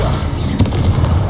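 A Confringo blasting spell detonates in Hogwarts Legacy, a loud booming burst over a dense rumbling background of spell combat.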